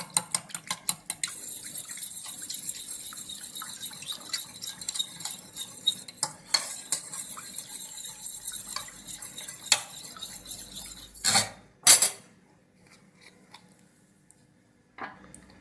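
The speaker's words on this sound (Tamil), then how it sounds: "இப்போ எக்கு, அதையும் நல்லா பீட் பண்ணிக்கணும்." An egg being beaten for bread pudding gives a close, rapid clicking and swishing of utensil against bowl, steady for several seconds before a few clinks and a stop.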